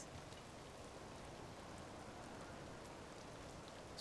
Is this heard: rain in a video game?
yes